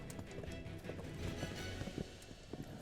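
Horses pulling ancient Egyptian war chariots clop along with quick, rhythmic hoofbeats over a dense rumble of wheels and movement, fairly close and steady throughout.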